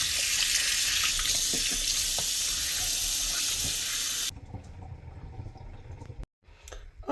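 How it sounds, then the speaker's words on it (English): Fish washed under a running kitchen tap, a steady close rush of water hitting the sink that suddenly drops to quieter splashing and handling sounds before it stops briefly and resumes. "the first thing I'm going to do is to wash my fish with some vinegar"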